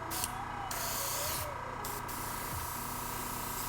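An airbrush or spray can hisses while miniatures are spray painted, giving a steady, close broadband rush with slightly stronger bursts near the start and middle and no talking.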